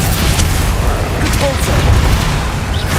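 Booming explosive blasts from the Bombarda spell in Hogwarts Legacy during a troll fight, with heavy low rumble and a dense, continuous barrage of crackling impacts that stay loud throughout.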